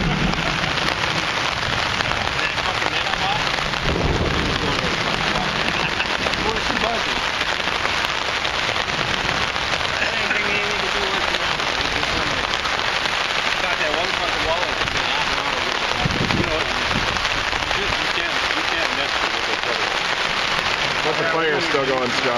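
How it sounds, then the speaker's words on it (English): Heavy rain pours down during a storm in a dense, constant hiss with occasional louder splashes and thumps, close by and unbroken throughout. "Raining the hardest over this way."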